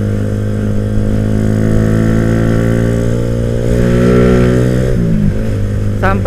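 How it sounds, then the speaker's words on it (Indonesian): A Suzuki Satria F150 motorcycle engine idles steadily and close by with a rough, throbbing hum, briefly shifting pitch near the end. "suara mesin memang terdengar sedikit lebih kasar"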